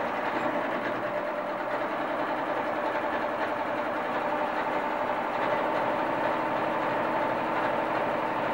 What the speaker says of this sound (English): I'm also going to stitch all the way around the edge, a little bit closer than 1/4 of an inch